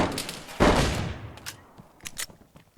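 A .45 caliber FNX pistol firing in DayZ, one sharp loud report with a fading tail, followed by a few quieter clicks and knocks.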